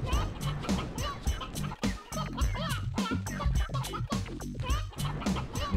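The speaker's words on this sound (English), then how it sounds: "It's just all the chicken noises." Chickens in the video game Mort the Chicken keep up a dense, busy stream of clucking and squawking over game music, loud and continuous throughout.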